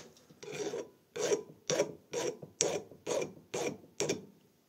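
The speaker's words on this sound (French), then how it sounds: "ça se lime facilement" A hand file rasps across a hardened steel press die in eight even strokes, each a short scraping burst with brief pauses between, close and clear with no voices.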